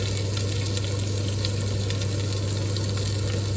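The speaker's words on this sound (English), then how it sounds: "pan's nice and hot, in go the red pepper, all that lovely red pepper in there" Chopped red pepper hits a very hot pan and sizzles loudly and steadily, a constant dense frying hiss with no talking over it.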